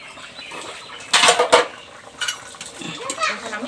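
Small-fish curry is stirred in a pot, with a few sharp metallic clanks and scrapes of a spoon against the vessel, separated by quieter stretches of low kitchen background.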